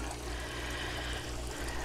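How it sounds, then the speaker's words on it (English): Water pours out of the bell siphon in an aquaponics grow bed, a steady close gurgling rush that runs unbroken through the short stretch. "what happens is the water comes out from here and then flows out"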